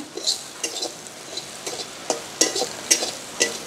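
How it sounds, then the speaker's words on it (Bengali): Shrimp frying in hot oil in a pan for a stuffed pointed gourd dish, with a soft sizzle under sharp intermittent scrapes and clinks of a utensil stirring against the pan, moderately quiet and close. "এই দেখুন চিংড়ি মাছটা আমরা ভেজে নিচ্ছি।"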